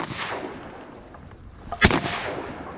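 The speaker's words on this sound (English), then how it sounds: "Oh man, they're far. Shoot them, Cade." One sharp, loud shotgun blast cracks out during an outdoor duck hunt, rising from a breezy, rustling background that settles back after the shot.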